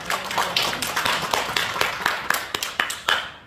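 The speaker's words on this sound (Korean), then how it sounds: "다시 한번 우리 두 교수님께 감사 박수 한번 드립니다." Applause of thanks for two professors at a church workshop gathering, a modest group clapping in an uneven, fairly loud patter of distinct claps, with no speech heard.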